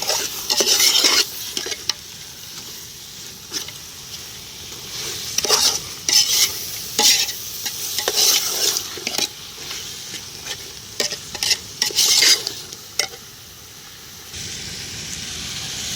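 Quail pieces frying with masala in a pan for quail biryani: a continuous hiss and sizzle with repeated scraping and stirring of a spoon against the pan, close and fairly loud, without speech.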